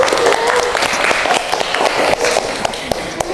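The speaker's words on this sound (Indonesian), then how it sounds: "Ya, kasih aplaus." A class of eighth-grade students applauds a group at the end of its presentation in an Islamic studies lesson. The clapping is steady and moderately loud throughout, with dense overlapping claps and no clear talk.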